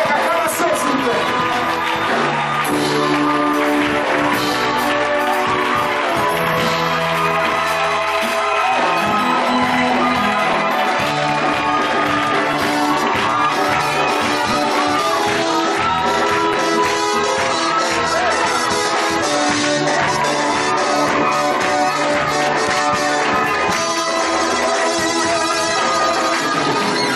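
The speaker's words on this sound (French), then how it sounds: "Recevez avec moi ce soir le révérend Alain Guesson, avec acclamation s'il vous plaît." Church congregation at an evening convention service loudly cheering, shouting and whooping to welcome a reverend, a dense sustained crowd roar over music lasting the whole stretch.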